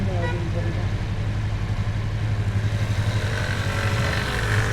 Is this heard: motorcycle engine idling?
yes